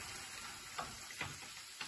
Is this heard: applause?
no